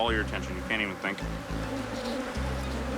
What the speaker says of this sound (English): This many bees and how insane they are would have killed us.